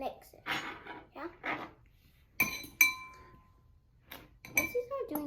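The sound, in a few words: stirring oobleck mixture in a glass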